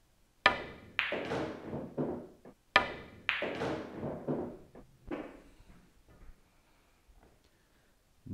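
Two sharp cue-ball strikes about two seconds apart in a straight-in pool stop shot, each a crisp close tap followed by a short rattle and softer knocks as the balls roll and drop, with quiet between.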